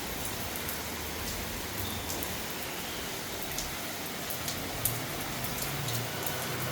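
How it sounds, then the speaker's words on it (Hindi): Heavy rain falls steadily in a dense, even hiss, with a few sharper drops and patters standing out over the constant wash. "देखो जी, बारिश है बढ़िया वाली।"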